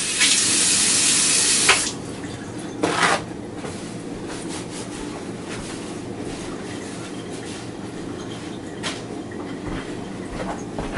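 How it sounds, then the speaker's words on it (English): Water from a kitchen tap runs loudly for about two seconds while hands are rinsed of egg, then the faucet shuts off and faint kitchen clatter and handling noises follow, close by. "Give my hands a quick wash just to get some of the residual egg off."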